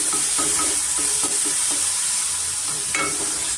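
Onion and curry leaves, seasoned with turmeric and salt for an egg burji, fry in a pan under a constant loud sizzle while a utensil scrapes and stirs in repeated strokes, no voices.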